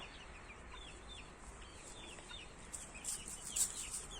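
Hens and chicks on a home poultry yard, with soft, steady clucking and high peeping calls scattered throughout, a few louder clucks near the end, fairly close but faint.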